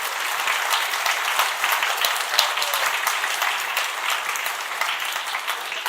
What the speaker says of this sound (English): And once again, a big applause,